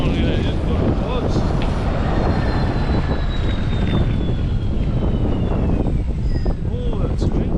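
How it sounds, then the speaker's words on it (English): Strong wind buffeting an outdoor microphone while riding a BMX bike in a public street, a constant loud low rumble filling the whole clip with no clear break. "Oh, that's windy."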